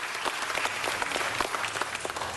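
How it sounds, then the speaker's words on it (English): A room full of people clapping at a city council meeting, steady moderate applause sustained for a couple of seconds, fairly distant and without talk over it. "give them another round of applause"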